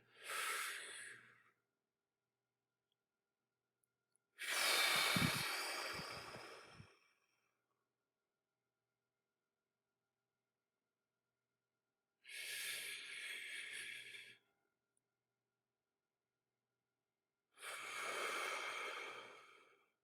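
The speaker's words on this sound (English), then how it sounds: "We'll just take a deep breath." Slow, deep breaths drawn in and let out during a calming exercise, four separate long airy breaths, close and clear, with quiet gaps between them.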